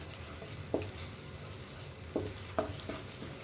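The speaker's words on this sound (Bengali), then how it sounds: "কালারটা আসার জন্য কাশ্মীরি লঙ্কার গুঁড়ো দিয়ে এবার নাড়াচাড়া করে নেব" Potol curry being stirred in a pan after Kashmiri chili powder goes in: a soft steady sizzle of frying with a few sharp spoon scrapes and knocks against the pan, close and fairly quiet, with no talk.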